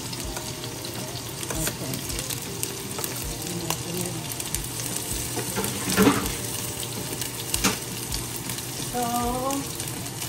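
Garlic fries in a pan for pork and beans, a close, steady sizzle with stirring scrapes and a few louder crackles, while a voice speaks briefly over it.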